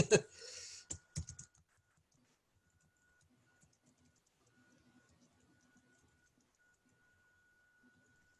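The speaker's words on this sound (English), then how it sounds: "I'm not used to typing on a laptop." Laptop keyboard typing comes as a short burst of sharp, close key clicks in the first second and a half, followed by near silence with faint scattered ticks.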